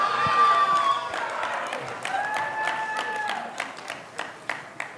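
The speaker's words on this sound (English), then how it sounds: "This is the Kirk Adams cheering section right here." A crowd cheers and applauds for Kirk Adams at a live Capitol event, with a steady wash of clapping broken by sharp whoops and whistles, some voices mixed in.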